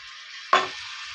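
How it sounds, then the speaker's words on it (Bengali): Masala spice paste with a little salt frying in a pan, a steady close sizzle with one brief louder burst of crackle partway through as the paste is worked. "দিয়ে আমি এবার এটাকে মশলাটাকে ভালো করে ফ্রাই করে নেব।"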